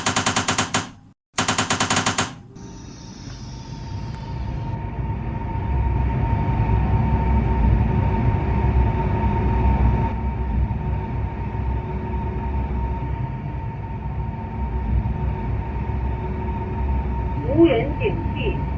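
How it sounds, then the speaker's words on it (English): A CR400AF high-speed train starts up and runs with its ATP protection isolated, giving a steady, loud rumble of motors and rails after a brief burst of clatter at the start, continuing evenly to the end. "Then start the train again to show you the effect."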